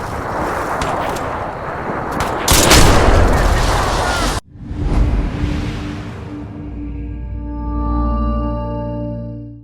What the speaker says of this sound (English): We have a Reaper cannon.